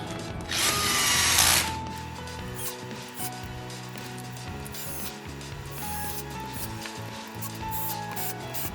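A power screwdriver whines in a loud burst near the start while screws are driven into the rear module skid plate of a Traxxas Slash kit, followed by quieter handling and clicking of plastic parts.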